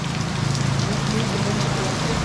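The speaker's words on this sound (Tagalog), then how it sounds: "Nag-uulan pati mga kasinag." Rain pours steadily in the Philippines, a dense even hiss of drops on surfaces with a low rumble beneath, continuous and fairly loud.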